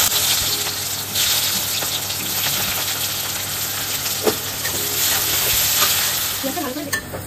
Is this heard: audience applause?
no